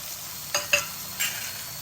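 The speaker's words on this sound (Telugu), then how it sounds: "తర్వాత ఇన్ని వెల్లిపాయలు వేస్తున్నానండి హోల్ వెల్లిపాయలు ముక్కలు చేయట్లేదు" Whole garlic cloves drop one after another into a pan of simmering gongura curry, making three short splashy sizzles over a low steady hiss with no talking.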